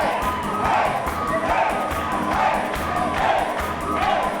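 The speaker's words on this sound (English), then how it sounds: "The crowds love him here." A wrestling crowd at an independent show cheers and shouts in a steady, dense roar of many voices, rising and falling in gentle waves throughout.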